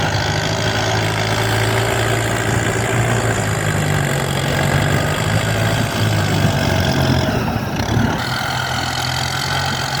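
A Kubota M108S tractor pushing soil to level a rice field, its four-cylinder 3769 cc turbo-intercooled water-cooled diesel running steadily and loudly up close, a continuous heavy drone with slight load changes and no talking.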